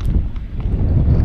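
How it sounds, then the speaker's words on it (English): Gusty wind buffets the microphone out on the water aboard a fishing boat during a thunderstorm, a steady low rumbling roar throughout with no talking. "That wind's picking up too."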